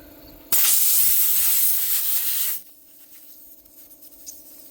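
Air rushes out of a tire valve as the pressure is lowered on a hand-mounted tire, a loud close hiss lasting about two seconds that stops abruptly, followed by quiet.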